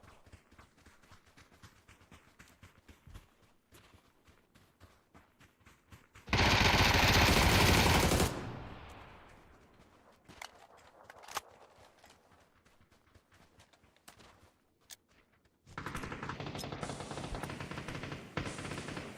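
FAMAS rifle gunfire in a video game: a loud sustained automatic burst lasting a couple of seconds, then scattered single shots and clatter, and another long dense volley near the end.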